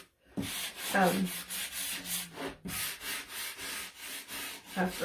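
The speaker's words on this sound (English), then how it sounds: "I was going to kind of sand the edges" Sanding the edges of a wooden Valentine craft, repeated rhythmic rasping strokes close up, each stroke a short rough swish with brief pauses between.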